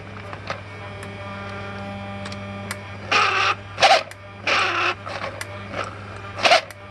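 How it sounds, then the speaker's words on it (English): A bench-tested Mercedes SL600 throttle body's internal electric motor gives short whirring, buzzing bursts over a constant low electrical hum, several separate pulses close to the microphone. "that's the internal motor, unfortunately. That's how it sounds."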